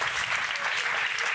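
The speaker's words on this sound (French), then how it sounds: "applaudissements pour lui" A TV studio audience applauds steadily throughout, a dense, even wash of clapping with no pauses or changes in intensity.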